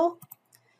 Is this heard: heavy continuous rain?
no